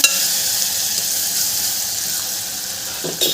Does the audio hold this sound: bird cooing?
no